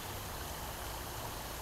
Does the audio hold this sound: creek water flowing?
yes